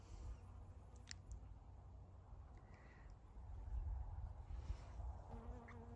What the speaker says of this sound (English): that's a honeybee. The bees are still hovering.